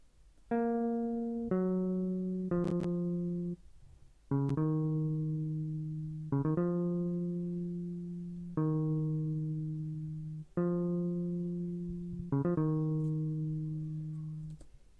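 A synth bass preset played in a higher octave gives plucked, guitar-like notes ringing out one after another in a slow, steady pattern, each decaying before the next, fairly quiet with no voices.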